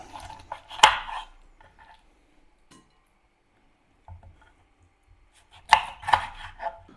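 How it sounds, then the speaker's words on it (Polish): A knife cuts through chicken wings, halving them, in two bursts of sharp chopping thuds and knocks on a board with a quiet gap between, fairly close and with no talk. "Ze skrzydeł odcinam to, co jest najmniej wartościowe i kroję je na pół"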